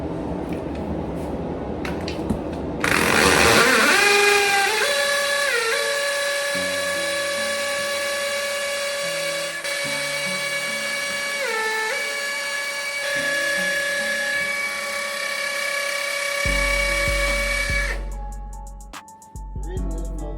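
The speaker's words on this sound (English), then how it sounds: "We're gonna drill these holes and then place tap cons in them." A power drill bores holes for Tapcon anchors while setting up a toilet, its motor a loud, steady high whine that sustains for many seconds, dipping briefly under load, then stopping abruptly.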